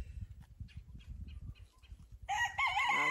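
Chickens clucking in a backyard garden, a run of short low clucks and calls, then a louder, drawn-out crowing call from a rooster at the end, close and clear.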